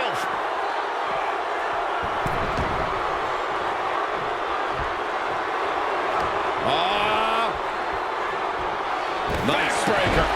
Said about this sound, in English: do you hear this capacity crowd? They want more from Stone Cold